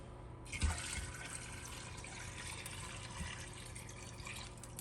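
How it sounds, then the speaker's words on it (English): Water gushes steadily from a tap into a pressure-cooker pot holding emu bones and cider vinegar, a continuous broadband splashing rush with a brief clunk near the start, filling toward the max line. "fill the whole thing up with water to your max line."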